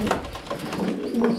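Racing pigeon cooing close by in a loft, several soft throaty coos repeating in a loose rhythm with no talking over them.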